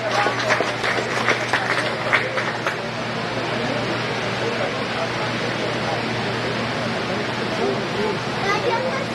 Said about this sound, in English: Let's give that last young lady a nice round of applause.